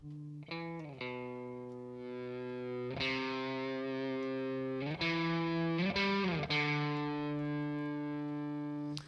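A distorted electric guitar through a Silver Llama amp simulator plugin rings out in sustained chords, changing several times with crisp attacks, loud and close with no voices.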